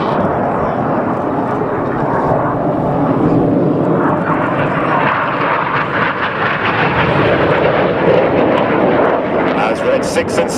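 Red Arrows jets roar continuously through a flying display at Cosford, a loud, broad engine rumble filling the whole stretch, while a commentator talks over the noise.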